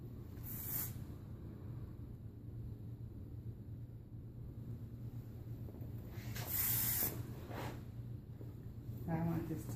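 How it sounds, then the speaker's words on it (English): Short hissing bursts of an aerosol hair finishing spray, three or four quick sprays near the end, over a low steady background hum. "finish her with a good spraying of our Awaphui Wild Ginger finishing spray"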